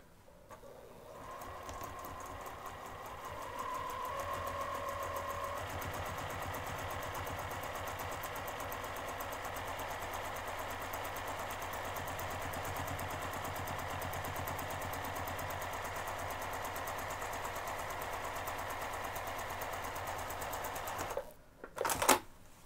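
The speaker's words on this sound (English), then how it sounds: "we're gonna top stitch just that finished edge using a quarter of an inch seam allowance." A sewing machine top stitches the finished edge of a bag, a steady rapid mechanical whirring that runs continuously for about twenty seconds before slowing and stopping with a few clicks.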